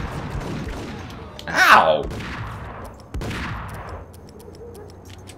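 Gunfire in the Max Payne video game, sharp bursts of shots over a steady game backdrop, with a loud pained cry in the middle and someone talking.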